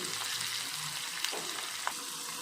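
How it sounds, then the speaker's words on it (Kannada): Crushed garlic and turmeric frying in oil for a quick raw mango pickle produce a faint, steady sizzle with a couple of small clicks from stirring, quiet and uninterrupted by speech. "ಎಣ್ಣೆಗೆನೆ ಹಾಕ್ಕೊಬೇಕು ಅರಿಶಿನ ನಾನು ಎರಡು ಬೆಳ್ಳುಳ್ಳಿನ ಜಜ್ಜಿಬಿಟ್ಟು ಹಾಕ್ತಾಯಿದ್ದೀನಿ"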